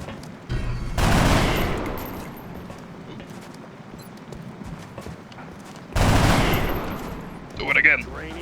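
Gunfire in the video game XCOM Long War comes in two loud bursts of rapid automatic fire several seconds apart, with quieter game sounds and a short sharp effect in between.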